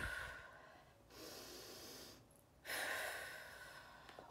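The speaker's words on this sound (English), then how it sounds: "Wow, that was a lot of deep breaths." Deep breathing during a children's yoga exercise, slow audible inhales and exhales close to the microphone, with brief pauses between breaths.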